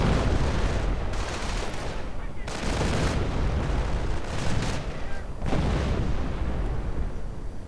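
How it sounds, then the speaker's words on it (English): Artillery fire in a wargame video game sounds as a dense, rumbling barrage of booms that roll continuously with brief dips between volleys, loud and full throughout. "And artillery getting called in"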